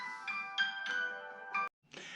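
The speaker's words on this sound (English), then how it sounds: "My phone's going off." A mobile phone ringtone goes off in a woodworking shop, playing a melodic series of tonal notes with short gaps before cutting out briefly and resuming.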